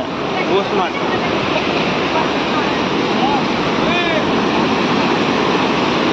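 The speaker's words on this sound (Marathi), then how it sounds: "पण या साईडला खूप मोठा धबधबा आहे" Napne waterfall in the Konkan, a dense continuous roar of rushing water close by, with brief bird chirps and a voice faintly present.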